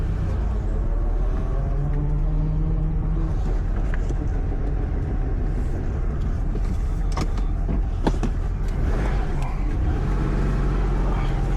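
A vintage Porsche driven on the road, its engine and tyre rumble a steady, loud low drone throughout, with a few brief clicks and knocks from inside the car.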